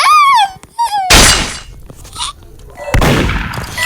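Two sharp, loud gunshot bursts ring out in a Roblox video game, each followed by a crackling, shattering tail, preceded by a whooping voice.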